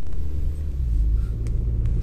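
2004 Mazda Premacy mini MPV pulling away, a low steady engine and road rumble heard from inside the cabin, with a couple of faint clicks, no talking.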